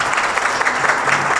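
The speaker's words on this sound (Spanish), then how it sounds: "pido un fuerte aplauso para Martinho da Vila" Brief, loud applause from an audience at an official ceremony in Artigas honouring a visiting guest, with dense, steady clapping throughout.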